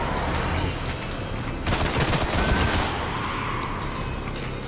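Gunfire in the Destiny beta on Xbox One, rapid bursts of shots sounding continuously, with a denser, louder stretch in the middle.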